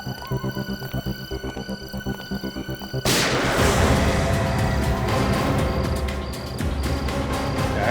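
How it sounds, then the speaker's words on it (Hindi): A gunshot fired while an officer confronts a dangerous man-eating killer: a loud broadband blast strikes abruptly after a steady throbbing rhythm and leaves a dense, rumbling wash that lingers for several seconds, with no voices. "आवाज तो गोली चलने की आवाज है"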